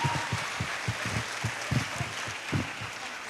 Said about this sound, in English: let the applause reflect your appreciation